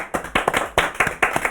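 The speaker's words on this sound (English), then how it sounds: "I think you should give yourself a round of applause" A small group of students applauding themselves after a hospital cyber-security lesson, a handful of close, loud claps in uneven bursts, with no talking.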